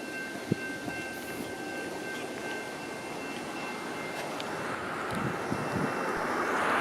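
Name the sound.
passing train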